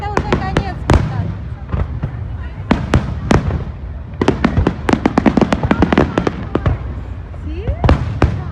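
Fireworks bursting over Hawaii, a rapid string of sharp, loud cracks and booms, some close together in bursts, with people talking and exclaiming throughout.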